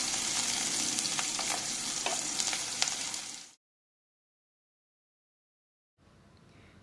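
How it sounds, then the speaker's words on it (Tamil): Finely chopped large onion sautéing in a hot pan, a dense close sizzle with scraping stirs and sharp crackles for several seconds, then sudden silence before the frying hiss returns more faintly. "அதை போட்டு பொன்னிறமாக வர வரைக்கும் வதக்கி விட்டுக்கோங்க"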